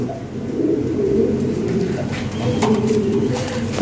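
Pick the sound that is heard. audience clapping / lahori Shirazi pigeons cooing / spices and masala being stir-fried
lahori Shirazi pigeons cooing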